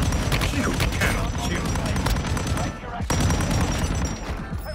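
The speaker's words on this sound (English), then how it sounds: "LMG is nuts." Rapid sustained bursts of LMG fire from Warzone Mobile, dense and loud across nearly five seconds with a brief pause near the three-second mark, then more automatic fire continuing.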